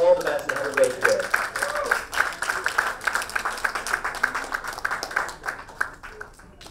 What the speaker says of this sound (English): round of applause, Tom Abbott